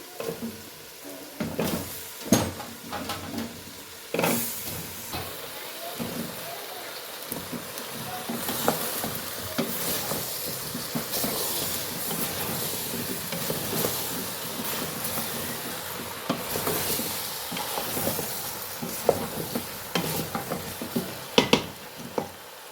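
Carrots and potatoes frying in a pan, a steady low hiss broken by repeated scraping and clattering strokes of a utensil stirring the vegetables over a long stretch, close and moderately loud.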